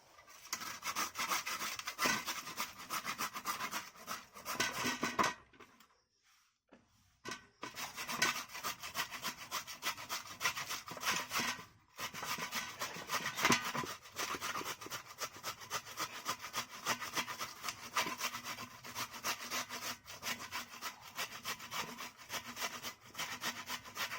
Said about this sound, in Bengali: এই ঘষা দিয়ে আমি আলুটাকে ঘষে নিচ্ছি